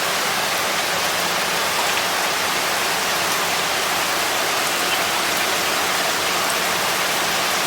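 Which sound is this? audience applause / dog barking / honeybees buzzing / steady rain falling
steady rain falling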